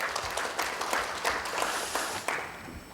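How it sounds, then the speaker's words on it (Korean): Attendees at a compliance program symposium applaud to welcome a pharmaceutical company presenter to the stage, a moderate, steady patter of many hands clapping in a hall that tapers off after about two and a half seconds. "박수로 모시겠습니다"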